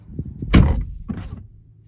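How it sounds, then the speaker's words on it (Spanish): A BMW i4 eDrive40 car door swings and shuts with a solid, muffled thunk, followed by a smaller latch click a moment later. "fijaos, cierro la puerta"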